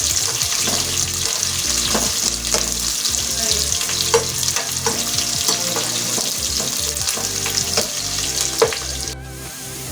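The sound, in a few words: onions frying and browning in a pan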